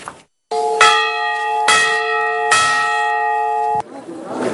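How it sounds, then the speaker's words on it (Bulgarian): A newly consecrated church bell rings at a monastery, sounding three loud, clear strikes with long ringing overtones that overlap, then stopping abruptly. "беше осветена новата камбана на Светата обител"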